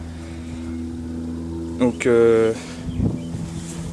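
A Kioritz SRM-6300E brushcutter engine runs at a steady idle, its low droning hum continuous and close, while someone speaks briefly over it.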